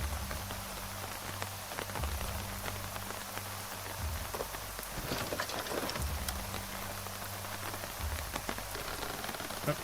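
Steady rain falls in the zombie survival game Terminus: Zombie Survivors, a continuous hiss of drops spread across the whole stretch, with a faint low rhythmic hum beneath and no talking.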